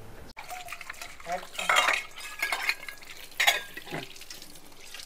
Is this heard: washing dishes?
yes